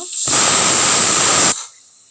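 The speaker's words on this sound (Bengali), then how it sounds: "আমাদের সিটি উঠবো উঠবো করছে এই যে সিটি উঠে গেল" A pressure cooker steaming okra and potatoes lets out a loud, steady, shrill whistling hiss for just over a second, then cuts off abruptly.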